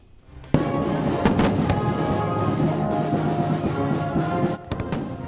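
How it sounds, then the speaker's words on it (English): Fourth of July fireworks over the Gulf Coast at night, with sharp loud bursts and booming cracks in quick clusters over a continuous crackling rumble, a short lull, then more bangs near the end. "the fireworks lighting up the night sky across the Gulf Coast to celebrate, of course, the 4th of July"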